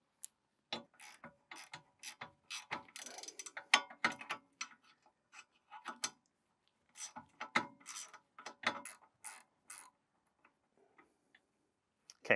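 A ratchet wrench with a 19 mm socket clicks in quick bursts while loosening a brake caliper bolt on a 2012-2015 VW Passat TDI, close, crisp ticking runs separated by short pauses.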